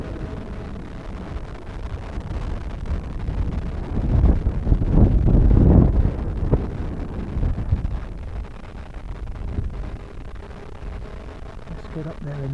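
Wind buffets the microphone during an RC plane flight with a Lidl twin-fuselage build, a steady low rumble that swells loudest in the middle before easing back to a constant roar.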